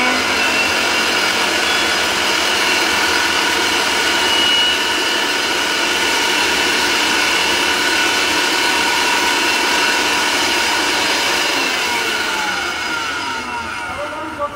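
An Orpat 1600-watt double-ball-bearing blender motor runs at full speed, a loud, steady, high-pitched whine and roar heard close up, easing slightly just before the end.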